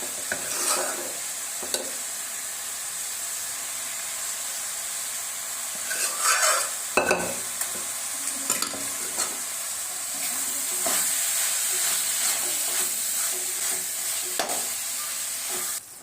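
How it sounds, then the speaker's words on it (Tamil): Cooked lentils being stirred into cabbage frying in a pan, giving a steady loud sizzle and hiss with occasional scraping spoon strokes, no talking. "இப்போ அது கூட நம்ம வேக வச்சிருக்கிற பருப்பை போட்டு கிளறி விட்டுக்கலாம்."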